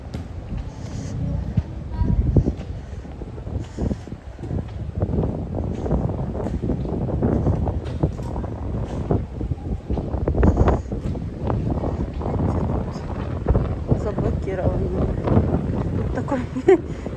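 Gusty wind buffets the microphone outdoors in a Spanish town near boats and a fountain, a steady low rumble with stronger surges throughout, and faint voices now and then.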